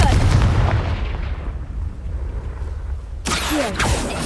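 Confringo blasting spell from a Hogwarts wizarding video game: a loud booming burst at the start that rumbles and fades over a few seconds, then a sharp crackling magical flare near the end.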